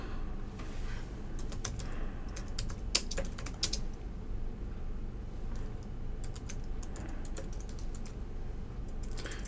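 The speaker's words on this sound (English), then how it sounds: "If I can type properly." Typing on a computer keyboard while entering button text in Unity, heard as a steady run of light, quick key clicks with brief pauses, fairly close and alone over a low background hum.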